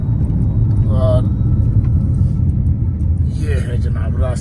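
A car travels a rough mountain road toward Upper Dir, a steady loud low rumble of engine and tyres throughout, with voices talking briefly over it.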